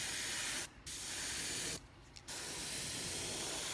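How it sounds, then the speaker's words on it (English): A steady aerosol hiss of spray paint onto a fishing lure runs almost continuously, broken by two short pauses where the spraying stops before resuming. "When you first spray it, it will look yellow."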